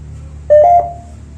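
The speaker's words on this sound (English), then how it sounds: "There's a one beep for yes" A single short electronic beep from a ghost hunting device, clear, loud and close, ringing briefly before fading into quiet room hum.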